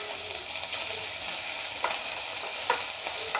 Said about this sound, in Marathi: आता आलं लसणाची पेस्ट घालून घेऊया.